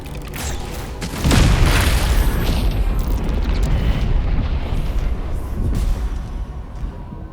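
An explosion bursts in the video game Baldur's Gate 3, a sudden heavy boom that swells into a long rumbling, crackling roar with debris-like clatter, loud and close, slowly fading over several seconds.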